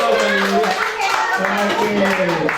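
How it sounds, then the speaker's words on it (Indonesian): A group of teachers at a positive-culture workshop clap their hands together in a burst of quick claps, while voices talk over the clapping. "Oke, tepuk tangan semua."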